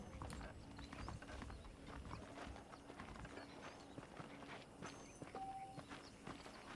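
Horse hooves clip-clopping at a walking pace in the Red Dead Redemption video game (2010), a steady quiet rhythm of hoof falls over faint ambient noise.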